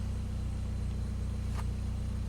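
Old Saab car engine running at a steady low idle as it sets off, a quiet, even mechanical hum with a brief faint click partway through.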